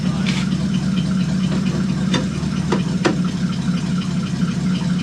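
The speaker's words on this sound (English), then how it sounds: "Put on the brake, put it in" A 1972 Dodge Crew Cab engine idles steadily with a low, constant rumble, while a few faint clicks and clunks come through as it is put into drive, heard up close with no talking.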